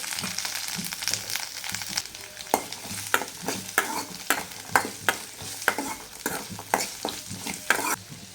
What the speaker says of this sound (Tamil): வெங்காயமும் கருவேப்பிலையும் போட்டு வணக்கிக்கலாம்